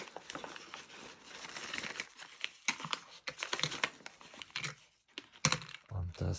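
Crinkly plastic rustling and crackling as a bag holding silver coins is handled and opened, irregular bursts close by, with some faint handling thumps.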